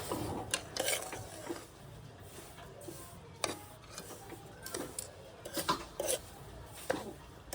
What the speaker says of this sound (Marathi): पुन्हा मिश्रण चांगलं ढवळून घेऊया।